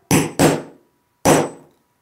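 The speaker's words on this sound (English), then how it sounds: "Give it a couple taps with the hammer." Three sharp metallic hammer taps on a hole punch cutting fabric: two in quick succession, then a pause and a third strike, each ringing briefly before fading.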